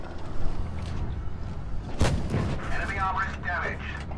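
Tank cannon firing in World of Tanks Blitz, likely an FV4005, a single loud boom near the middle over constant engine rumble and game noise, with a voice talking throughout.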